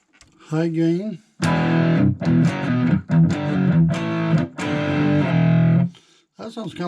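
Electric guitar through a Spark amplifier on a high gain setting, with distorted chords struck and held in several bursts separated by short gaps, loud and close.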